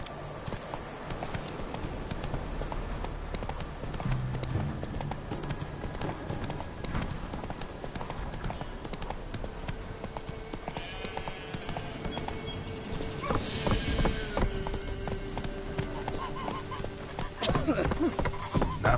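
Roach the horse gallops in The Witcher 3, with loud, steady, rhythmic hoofbeats running throughout alongside game ambience and music.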